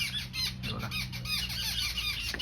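Birds chirp and squawk continuously at a roadside stop during a road trip, a dense chorus of high, rapid calls overlapping one another at moderate volume with a low hum underneath.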